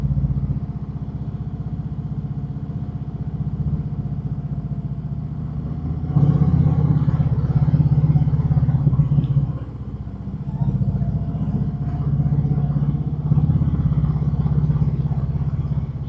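A Harley-Davidson Sport Glide motorcycle engine hums steadily at close range while riding, its pitch rising and thickening as it revs up partway through before settling into a steady cruise.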